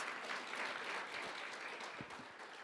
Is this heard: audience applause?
yes